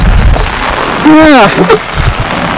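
Heavy rain in a village in Shan State, a loud, constant hiss and patter filling the whole stretch, with a short voiced call breaking through in the middle.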